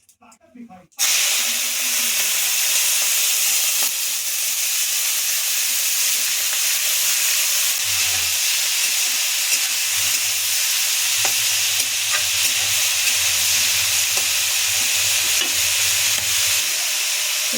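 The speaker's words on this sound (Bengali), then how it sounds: "আবার এঁচড়টা ভেজে নেব" Young jackfruit frying in an oiled pan with dried chillies: after a short quiet start, a loud, unbroken hiss and sizzle runs close up, with a low hum joining partway through.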